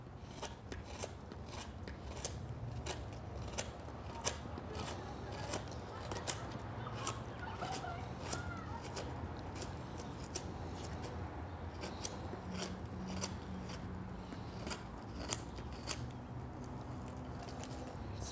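Home-made native style chisel carving cedar wood up close, a steady run of sharp rasping cuts in a regular rhythm of strokes, each a brief scraping crunch, continuing alone for the whole stretch.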